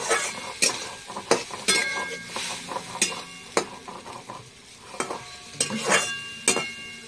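A utensil stirs okra in a pan after a little water is added for a Bengali okra-poppy-seed dish, producing irregular scraping clinks and soft sizzling bursts at a modest level with no talking.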